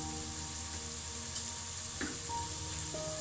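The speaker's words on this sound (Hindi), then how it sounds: "लहसुन अदरक हमारा फ्राई हो चुका। अब इसमें हम शामिल करेंगे मिर्च।" Garlic, ginger and chilli fry in a pan with a steady, close sizzle throughout, marked by a couple of light stirring scrapes and no talking.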